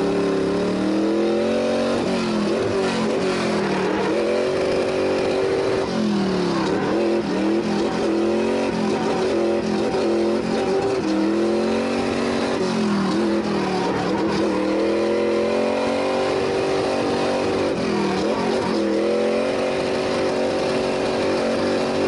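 Drift car engine, a Nissan S15 fitted with an LS6 V8, revving hard at a drift festival, loud and close with repeated rises and falls in pitch as the throttle is worked, no talk over it.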